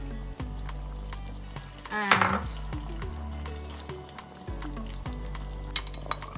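Okra sizzles in a pan alongside grey snapper cooking in coconut milk with vegetables, a steady close frying hiss broken by clinks of a utensil against the pan.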